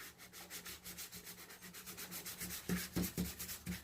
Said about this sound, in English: With your sanding block?